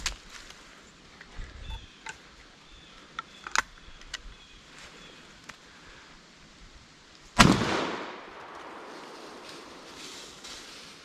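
A single loud gunshot cracks outdoors during a squirrel hunt and rings out in a decaying tail. Only faint small rustles and clicks come before it, with no talk.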